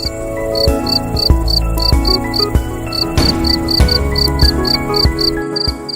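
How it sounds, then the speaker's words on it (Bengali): Crickets chirp steadily in repeated pulses, a continuous high trilling that fills the scene alone, with no voices. "বলা হয় ঝিঝির শব্দ আমাদের বলে দেয় শীত বা গরমের মাত্রা।"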